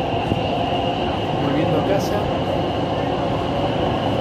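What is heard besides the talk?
subway train riding in Buenos Aires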